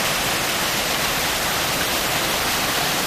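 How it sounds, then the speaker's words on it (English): A small waterfall in Pradis, Italy, sends out a loud, close, unbroken rush of falling water, a dense steady roar with no voices over it. "This is probably my favorite little waterfall here."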